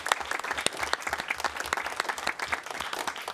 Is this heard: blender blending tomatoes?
no